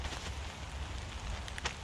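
Rain falls steadily in the woods, a soft continuous hiss with scattered faint drops, fairly quiet and with no talking.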